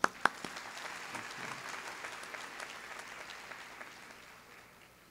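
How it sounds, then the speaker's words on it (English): Audience applause at a 2014 business school commencement ceremony, a steady wash of many hands clapping with a couple of sharp claps near the start, slowly fading over about five seconds. "Another round of applause."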